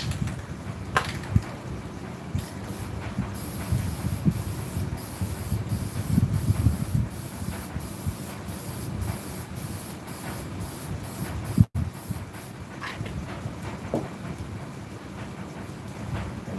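An aerosol spray can hisses in repeated short bursts over a sanded non-skid surface, close to the microphone, with brief pauses between sprays and a sharp click partway through.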